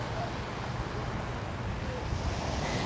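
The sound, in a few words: wind on the seafront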